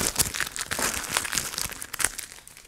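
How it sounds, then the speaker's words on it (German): Adhesive masking tape is peeled off a car's paintwork after a liquid gloss wax treatment, giving a quiet, irregular run of crinkly, crackling bursts. "Und dann können wir eigentlich jetzt schon das Klebeband abziehen"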